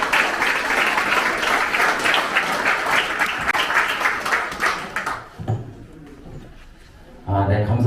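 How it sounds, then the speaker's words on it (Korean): A crowd at a political campaign committee disbanding ceremony in Incheon applauds loudly and steadily for about five seconds, then the clapping fades out and a voice begins speaking over a microphone. "큰 박수로 환영해 주시기 바랍니다"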